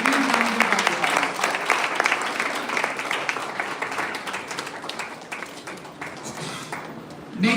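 Steady round of applause from a university ceremony audience for best poster presentation award winners, dense clapping throughout with faint voices mixed in, swelling slightly at the very end.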